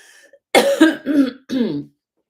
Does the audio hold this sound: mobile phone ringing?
no